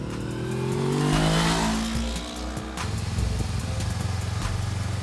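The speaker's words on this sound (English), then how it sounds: "This is a 471cc parallel twin liquid-cooled engine that makes 47 horsepower" A 471cc liquid-cooled parallel-twin engine on a 2021 Honda CB500X motorcycle revs up hard, its pitch sweeping upward, then drops back and settles into a throbbing idle, close and alone.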